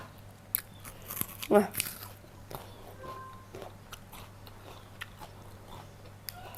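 Biting into and chewing a sweet fruit, with a crunchy bite in the middle followed by soft, close chewing sounds over a low steady hum.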